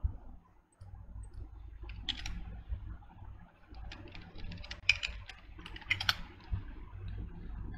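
Quiet computer mouse clicks and light keyboard taps come in scattered bursts during a NuGet package installation, close and faint over a low background hum, with no talking.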